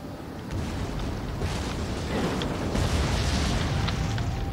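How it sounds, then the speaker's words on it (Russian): Ballistas fire and their shots explode in the Total War: Rome II battle, heard as a dense, continuous roar of battle noise with booms and rumbling blasts swelling over several seconds. "вот эти баллисты мне не нравятся, как они стреляют"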